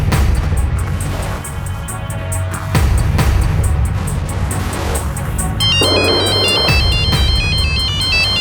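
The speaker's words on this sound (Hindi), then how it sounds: "अंजलि का फोन है।" A phone ringtone repeats a bright melodic chime over a loud, busy rumbling background.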